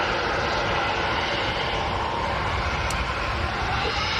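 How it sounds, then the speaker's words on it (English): A TUI Boeing 787 Dreamliner starts its full-length takeoff run at Manchester Airport, giving a steady, even wash of jet engine roar at moderate level with no pauses. "TUI Dreamliner lined up full length."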